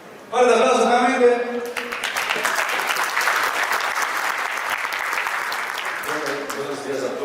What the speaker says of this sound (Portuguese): Fuerte aplauso nuevamente